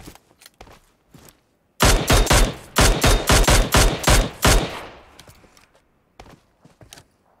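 Rapid gunfire in PUBG Mobile, a loud near burst of sharp evenly spaced shots that lasts about three seconds, framed by quieter scattered shots and footsteps before and after.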